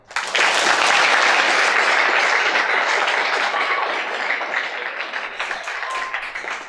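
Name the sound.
audience applause at pesantren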